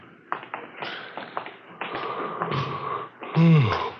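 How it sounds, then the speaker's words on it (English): A teletype machine in an old police radio drama taps out bursts of quick mechanical clatter with brief pauses, ending on a louder thump. "We better get the arrest on the teletype."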